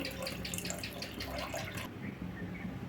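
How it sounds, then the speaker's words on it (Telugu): Water runs and splashes into a cooking pot for a couple of seconds as six glasses are added for green pea biryani, then cuts off, leaving faint dripping and quiet background. "ఇదిగోండి వాటర్ మాత్రం పోసుకున్నామండి"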